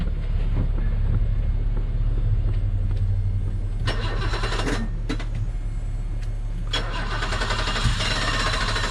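Engine of a BMW E24 633CSi coupe starting up and running, a loud steady close-up rumble with brief rising revs partway through.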